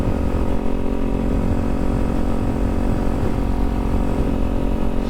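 Kawasaki Z400 motorcycle with 6,500 miles on it, its engine running in a steady, loud drone with a dense low hum. No rise or fall in revs across the stretch, and no voices.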